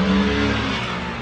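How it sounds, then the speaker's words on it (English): Traffic rolls past an open window on a hot day in Copenhagen, a close, steady car engine and tyre rumble filling the whole moment with no voices. "every single car has just decided to drive past the window"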